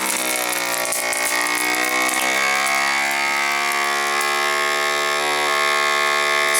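A vacuum sealer for BPA-free microwave- and freezer-safe bags runs a loud, steady pumping hum with a rising whine as it draws air out, continuous and close with no voices.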